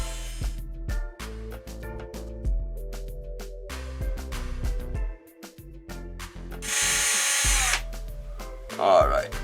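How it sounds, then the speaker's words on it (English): A power drill spins counterclockwise to twist wire, whirring in repeated short bursts and one longer run alongside ratcheting mechanical clicks, while a person talks throughout. "which side is the drill spinning"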